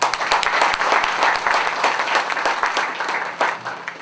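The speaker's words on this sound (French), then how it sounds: "Applaudissez-les, s'il vous plaît" Applause at a graduation ceremony, a crowd clapping steadily with sharper individual claps standing out near the microphone.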